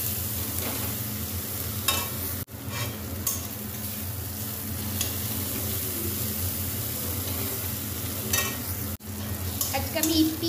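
Thinly sliced onions fry in a pan for a noodle dish, giving a continuous close sizzle with occasional stirring scrapes and faint pops throughout, and no talking.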